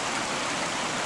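Clear, calm, cold mountain river in the Carpathians, flowing as a steady, dense wash of water noise, close and continuous with no talk.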